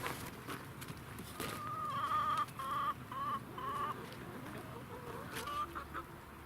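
Chickens cluck and murmur close by in a garden coop one morning, a steady run of short calls over soft background noise.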